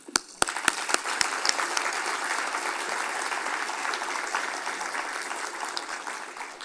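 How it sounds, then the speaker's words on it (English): Audience applause at a general conference of the World Academy of Sciences, beginning with a few sharp separate claps and quickly swelling into steady, dense clapping from a large crowd that carries on evenly to the end. "So I think that's worthy of applause"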